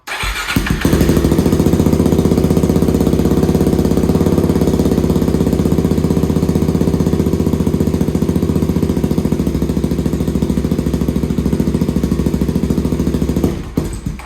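A Suzuki DRZ400SM single-cylinder motorcycle with an FCR39 carburetor runs loud and close, a steady, rapid, unbroken engine drone lasting almost the whole stretch and cutting off near the end.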